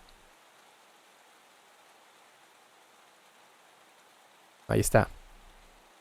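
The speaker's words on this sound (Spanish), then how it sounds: "una grabación de lluvia" Recorded rain used as an ambient texture: a faint, steady broadband hiss of falling rain runs throughout, with a brief louder burst near the end where a voice speaks over it.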